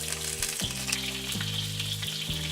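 Catfish pan frying in hot oil, a dense steady sizzle with crackling spatter close up, continuous and fairly loud throughout, with soft music underneath and no talk.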